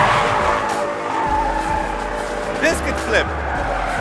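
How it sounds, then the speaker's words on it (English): Car doing donuts in an amateur burnout competition, tires burning rubber down toward the metal amid heavy smoke; a steady engine roar with sharp tire screeches near the end, under a voice. "You're going around and you're doing donuts. Basically burn the rubber till the metal."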